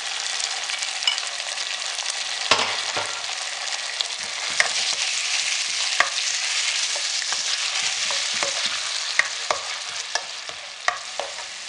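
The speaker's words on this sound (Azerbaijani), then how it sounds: "Tomat pastasını da içərisinə dökürəm. Təqribən 3-4 dəqiqəyə qədər soğanla birlikdə yağda qızardıram." Tomato paste fries with onions in oil in a pan, a steady bright sizzle broken by occasional sharp crackles and spoon scrapes as it is stirred.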